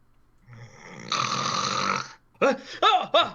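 A player voices a character beginning to snore during a Dungeons and Dragons one-shot: a long, drawn-out rasping snore, then three short snorting bursts, close and fairly loud.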